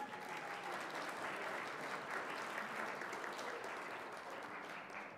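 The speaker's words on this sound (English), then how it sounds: "we'd love to give you all a round of applause" A standing audience applauds a priest and other clergy at a Catholic school gathering, a steady, even roar of clapping from many hands that carries on without pause.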